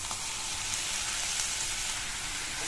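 Chopped ridge gourd, about half a cup, sautéing in a pan over high flame, a dense, even hiss of sizzling oil, close and steady with no voices.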